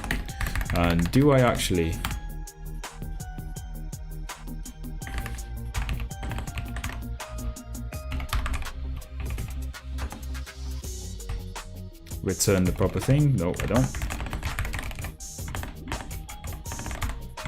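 A new computer keyboard clatters in rapid bursts of close keystrokes while someone talks over it, the typing dense and uneven with short pauses between runs.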